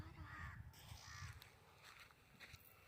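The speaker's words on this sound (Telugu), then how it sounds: "అక్కడ కాకి కూర్చుంది" A crow out in open farm fields gives a few caws, moderately close but quiet, amid soft outdoor rumble and wind.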